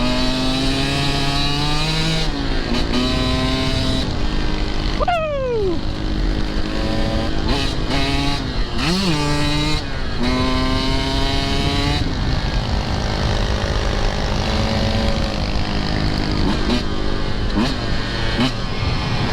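Husqvarna TE150 two-stroke dirt bike ridden fast, its engine screaming and revving hard through repeated up and down pitch sweeps, loud and continuous, with brief passing swells as it rides by and faint voices underneath.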